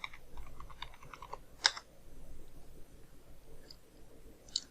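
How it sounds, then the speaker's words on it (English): Typing on a computer keyboard during software setup on a Windows PC, heard as soft, scattered keystrokes with one or two sharper clicks over a quiet background, without any voice. "So let's type in here Decsoft"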